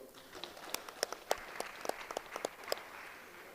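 Scattered, sparse handclaps from a small seminar audience, about a dozen distinct claps spread over a few seconds, fairly quiet with a hushed room behind them.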